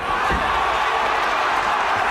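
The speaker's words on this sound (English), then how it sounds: "Crowd here, Belfast imploring their man to raise his game." A boxing crowd in Belfast at the Martin Lindsay vs. John Simpson fight makes a steady, dense roar of voices urging their fighter on, loud and continuous throughout.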